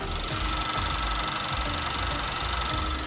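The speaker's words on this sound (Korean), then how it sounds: "엔진 소음을 담기 위해 본네트를 한번 열어봤는데요" A gasoline imported sedan idles with its hood open, the engine giving a smooth, steady, quiet hum with a faint low rhythmic pulse, heard alone without talk.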